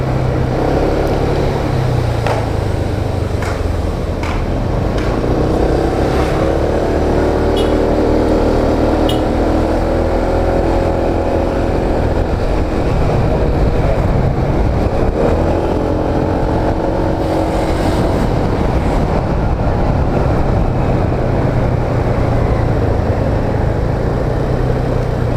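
Street traffic rolls along a busy road in Ubud, Bali, with engines of cars and motorbikes droning and revving continuously and loudly nearby and no voices over the rumble.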